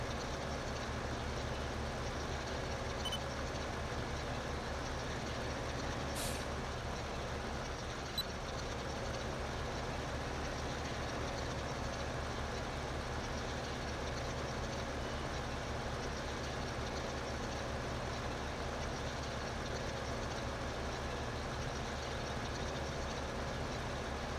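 Steady drone of a tractor engine driving across a field in Farming Simulator 15, a continuous low rumble at constant level with no change in pace and no talk.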